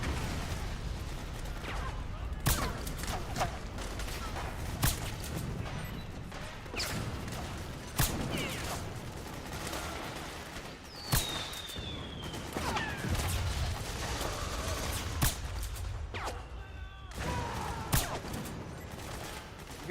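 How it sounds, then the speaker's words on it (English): Gunfire in the video game Metal Gear Solid 4, a dense battlefield barrage of repeated shots and bursts with crashes and mechanical clatter, loud and continuous for the whole stretch. "I'm hearing gunfire to my left."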